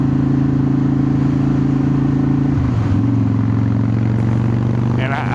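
A motorcycle pulls hard in third gear during a test ride after an underdrive pulley install, its loud steady engine drone shifting pitch midway as revs change, with wind noise throughout and no speech.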